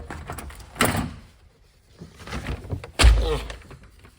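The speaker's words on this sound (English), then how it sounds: "Can you open the door, too?" A door slides and thunks open with a solid bump near the end, preceded by shuffling and muffled movement nearby.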